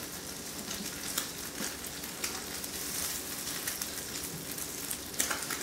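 Steady vegetable-oil sizzle and crackle from crab cakes frying in a pan, continuous and close, with occasional louder pops.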